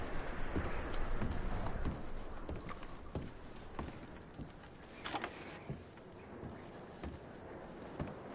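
Horse hooves clip-clopping in Red Dead Redemption 2, an irregular patter of fairly soft, mid-distance hoofbeats over a steady wash of outdoor ambience that fades slightly partway through, with no voices.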